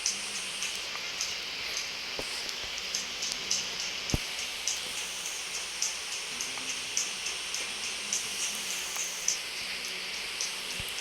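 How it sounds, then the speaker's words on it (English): Rain in the Roblox game Build a Tower, a steady hiss of falling rain with scattered sharp drip ticks, constant and moderately quiet throughout, with no talking. "It's raining."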